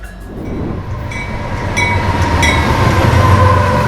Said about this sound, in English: BNSF freights roar down the racetrack with stunning frequency and speed.